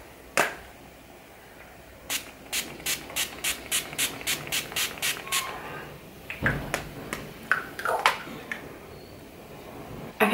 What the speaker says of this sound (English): I like to use the Urban Decay All Night Makeup Setting Spray just to give my face more hydration